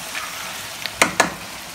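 Fish pastilla filling being stirred in a pan, with a faint sizzle and two sharp utensil scrapes close together near the middle.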